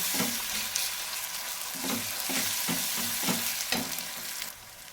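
Ginger frying in oil, stirred with a wooden spatula: a continuous sizzle punctuated by about six rhythmic scraping strokes, close and clear, easing off at the end, no speech.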